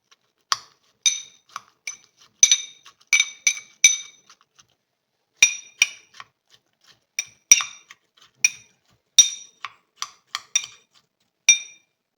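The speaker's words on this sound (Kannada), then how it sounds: "1 ಸ್ಪೂನಷ್ಟು ಚಿಯಾ ಸೀಡ್ಸ್ ಹಾಕ್ಕೊಳ್ತಾ ಇದ್ದೀನಿ. ಇದು ಸ್ವಲ್ಪ ಮಿಕ್ಸ್ ಮಾಡ್ಕೊಳ್ಳೋಣ." Metal spoon clinking against a glass while stirring soaked chia seeds into a watermelon mojito, a series of sharp, bright, irregular taps close by in an otherwise quiet kitchen, without speech.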